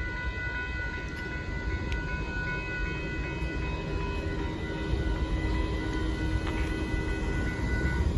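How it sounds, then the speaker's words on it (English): A CSX grain train led by locomotive 3056 passes at Dittmar Road in Austin, Texas, as a steady mid-distance rumble of rolling cars with a faint tonal hum and an occasional clank. "CSX 3056 leads a grain train right here at Denver River in South Austin, Texas."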